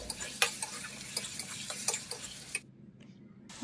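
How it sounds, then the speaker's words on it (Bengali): Grated ginger and garlic fry in a pan under a steady sizzle as a utensil scrapes and taps against the pan in irregular strokes. Everything goes quiet near the end, then one last tap sounds. "আদা রসুন ভালো করে একটু ভেজে নিচ্ছি"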